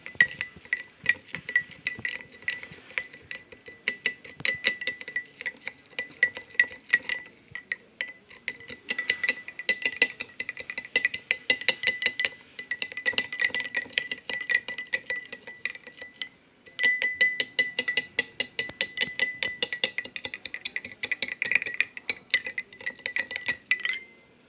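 A spoon clinks steadily and rapidly against the inside of a glass tumbler while stirring salt into water, for a long stretch with short pauses, a bright repetitive tinkling close by.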